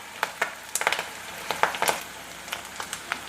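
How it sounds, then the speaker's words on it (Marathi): Onion and curry leaves sauté in a pan over a low sizzle, with sharp irregular pops and spatters crackling through it at close range, no one speaking. "कांदा आपल्याला छान सोनेरी रंगावरती परतून घ्यायचा आहे."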